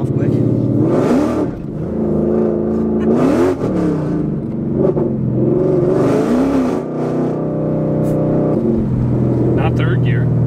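A Whipple-supercharged Ford Mustang accelerates hard through the gears, its loud engine rising and falling in pitch across several upshifts, with people talking over the roar inside the car.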